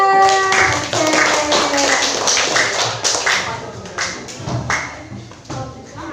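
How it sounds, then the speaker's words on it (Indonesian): A burst of clapping from a group of schoolchildren in a classroom, steady and fairly loud, with scattered sharp claps throughout and no voices standing out. "tepuk tangan"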